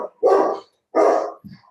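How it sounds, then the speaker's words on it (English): A dog barks indoors in a home, two loud close barks about a second apart followed by a short softer yip. "sorry for my dog."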